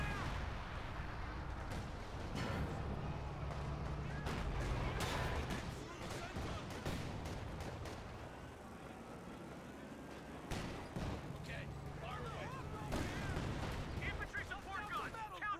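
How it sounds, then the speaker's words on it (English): Infantry support gun firing in a video game battle, repeated heavy booms and crackling gunfire near and far with rumbling impacts, mixed with a talking voice. "Infantry support gun. Counter fire."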